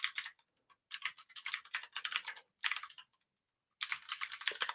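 Quick bursts of clicky keystrokes on a computer keyboard come in rapid runs separated by short pauses, close and crisp, with no voice.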